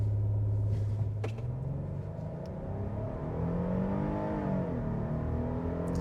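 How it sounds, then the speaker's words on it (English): A Hyundai Palisade V6 in sport mode accelerates hard from a brake-torqued launch, a smooth engine drone rising steadily in pitch, heard continuously from inside the cabin. "It's a nice sounding V6 and it's smooth."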